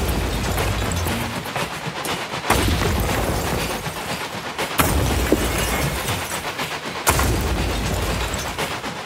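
Repeated heavy booms of video game explosions, three sharp blasts at intervals, each followed by a sustained rumbling roar, loud and close with no talking.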